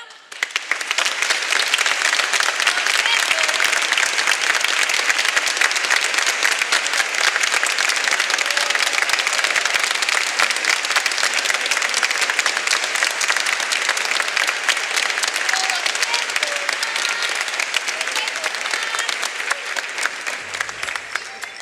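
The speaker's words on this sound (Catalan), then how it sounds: "rebrem en un fort aplaudiment damunt de l'escenari a Josep Mollà" A loud, sustained round of audience applause welcoming Josep Mollà onto the stage, dense clapping that holds steady throughout before easing slightly at the end.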